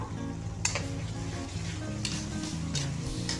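Turmeric, chili and cumin spice mix sizzling steadily in a hot pan with onions, with a few sharp scrapes of a spoon stirring it through; continuous close frying hiss with background music.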